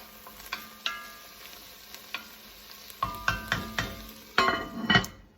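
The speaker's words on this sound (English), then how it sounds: "While I'm waiting for the onion to cook" Diced onion cooking in a pan for pinto bean soup, with a soft steady sizzle underneath and a series of sharp clinks and scrapes of a utensil stirring against the pan, growing busier toward the end; no talking.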